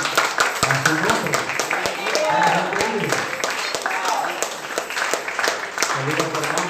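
A church congregation applauds in praise to the Lord during a Spanish-language worship service, a steady wash of clapping that carries under continuous talk and voices throughout.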